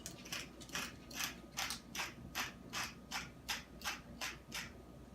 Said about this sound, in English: Fancy little pepper grinder there